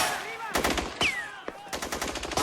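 Rapid machine-gun bursts and single gunshots from a 1997 film scene about a second civil war crack in several short clusters, fairly loud and echoing.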